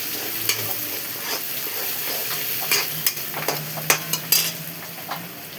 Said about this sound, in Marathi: कांद्याला मस्त आपण परतून घेऊया.